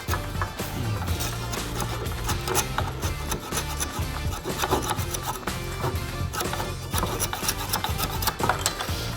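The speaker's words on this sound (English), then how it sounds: "I'm going to take a back saw. This is a Lee Nelson back saw. I'm just going to cut it" Lee Nelson back saw cutting a wooden peg: steady, rapid back-and-forth rasping strokes of fine teeth through wood, close and continuous with no speech.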